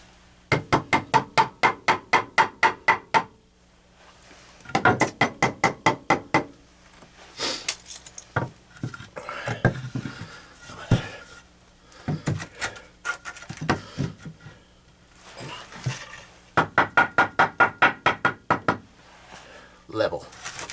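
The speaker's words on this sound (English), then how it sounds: "Hammer." A hammer striking repeatedly during room renovation, several bursts of fast, sharp, ringing blows separated by pauses, close and loud, with some handling clatter and someone talking between bursts.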